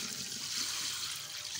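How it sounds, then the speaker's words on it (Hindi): Tap water runs in a steady, loud, continuous stream while bitter gourd is washed under it in a kitchen. "घंटे के बाद अब इसको मैं वॉश कर रही हूँ।"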